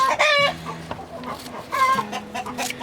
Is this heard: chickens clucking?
yes